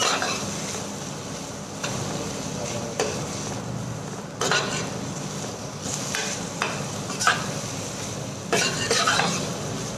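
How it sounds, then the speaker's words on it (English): Julienne-cut cabbage and carrot are stir-fried in a pan for a Chinese-style dish, giving a steady sizzle broken by repeated scrapes and clacks of a utensil stirring the vegetables, with no talking. "Julienne cut cabbage and carrot added in the same mixture."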